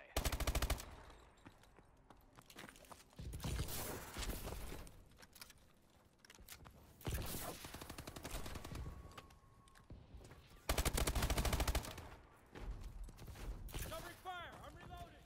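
Bursts of automatic gunfire in the Call of Duty Advanced Warfare video game, coming in several loud broadband volleys separated by quieter stretches, with voices talking over the action.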